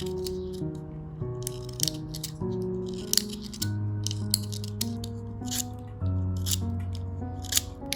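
Blade strokes scrape steadily along an artist's pencil as it is sharpened by hand, a dense run of close, crisp shaving sounds repeating in quick bursts over a low tonal background.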